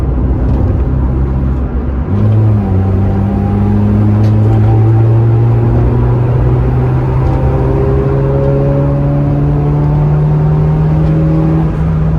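A Honda Civic EJ9 engine revs and pulls steadily, its pitch climbing through gear changes, loud and continuous from start to finish.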